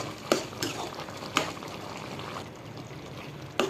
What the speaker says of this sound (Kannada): ಸರಿಯಾಗಿ ಫ್ರೈ ಮಾಡಿರಿ